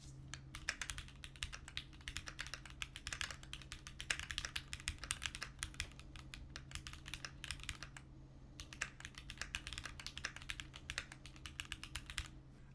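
Typing on a Keychron Q7 mechanical keyboard, a rapid continuous run of crisp keystroke clicks with one brief pause, close and quiet over a low steady hum.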